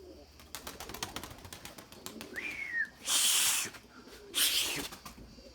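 A white male Erzurum pigeon comes in to land, two loud, rushing flurries of wingbeats close by, preceded by a brief chirp amid quieter background rustling.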